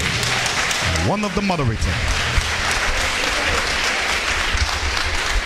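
An audience at a senatorial debate in Gbarnga applauds a moderator, the dense clapping continuous and fairly loud throughout, with a voice speaking briefly over it near the start.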